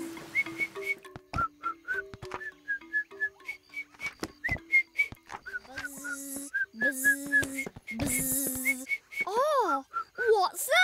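Cartoon whistling in short, bright tuneful bursts and sliding notes, repeated many times with brief gaps, alternating with a childlike voice imitating the whistle and cartoon character voices.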